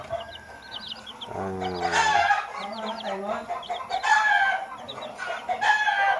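Week-old Rhode Island Black and Rhode Island Red chicks cluck and peep steadily at close range, with a rooster crowing in the background and a voice talking over them.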